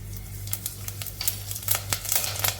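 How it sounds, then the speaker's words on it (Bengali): Black mustard seeds sputter and crackle in a tablespoon of hot soybean oil, a close stream of quick popping ticks over a low steady hiss, with no voices. "আমি 1 টেবিল চামচ পরিমাণে সয়াবিন তেল দিয়ে দিচ্ছি। প্রথমেই দিয়ে দিচ্ছি 1 চা চামচ সরিষা, কালো সরিষা।"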